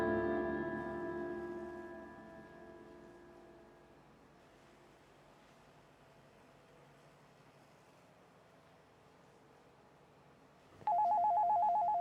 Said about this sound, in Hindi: तो भाई ये किसका फोन बज रहा है?